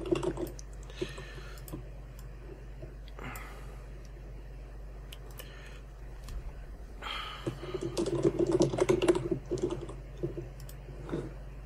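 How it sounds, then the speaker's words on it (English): Heavy, fast typing on a computer keyboard during an online duel tournament finals match, heard as bursts of clicky keystrokes that grow denser and louder toward the end, with no talking. "Arvius is typing like an earthquake. I can hear it in my headphones."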